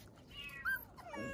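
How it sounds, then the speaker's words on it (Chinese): A cat at a stray animal rescue shelter gives a single short, faint meow, slightly distant in a quiet room. "有一只猫在叫啊"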